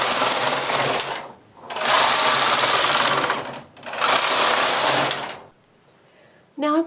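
Knitting machine carriage sliding across the main bed in part-button setting for English rib slippers, making three loud whirring, rattling passes with short pauses between, then a brief tone at the end.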